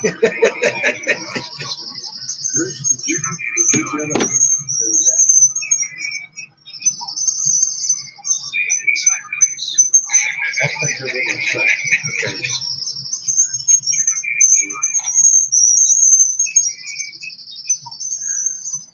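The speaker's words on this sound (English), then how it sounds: "there are a lot of birds chirping around here" Birds chirp and tweet repeatedly in high bursts throughout, mixed with people talking and some laughter nearby.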